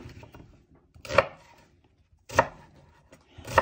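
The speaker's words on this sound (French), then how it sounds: "on va terminer d'émincer des oignons" A knife chopping onions on a board, three sharp separate thuds about a second apart, close and crisp, with quiet gaps between.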